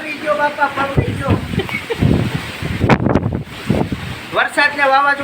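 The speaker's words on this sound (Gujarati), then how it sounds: "વરસાદ ને વાવાઝોડું મિત્રો બહુ છે" Stormy wind gusts and rain batter an outdoor spot where a tent canopy has collapsed, with broadband rushing and flapping bursts throughout while someone talks loudly over the noise.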